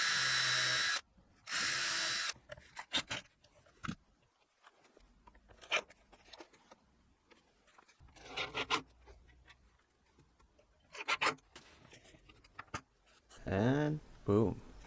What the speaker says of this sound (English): Cutting the plough holes for the hinges.